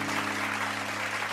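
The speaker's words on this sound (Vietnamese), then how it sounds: "Một tràng pháo tay cho Duy Phong thưa quý vị." A studio audience at a Vietnamese comedy competition show claps in a dense, steady burst of applause, loud and continuous for a moment with a low hum of music beneath.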